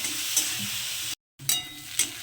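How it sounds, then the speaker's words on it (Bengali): Onion and garlic frying in oil while preparing a spicy lote fish curry, a steady close sizzle with a few stirring scrapes and a brief dropout midway. "এবার পেঁয়াজ আর রসুনটাকে খুব ভালো করে একটু লাল লাল করে ভেজে নেব"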